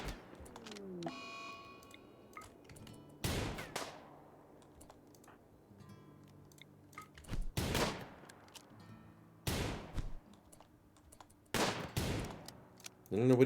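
Colonists' guns in Rimworld fire in several sharp, loud bursts spaced a few seconds apart, standing out over a quiet game background.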